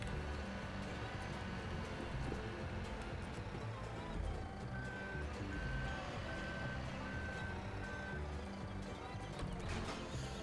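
A telehandler in the Farming Simulator 17 video game sounds its reversing alarm on a British farm. Five or six evenly spaced electronic beeps ring out over a steady, loud engine drone.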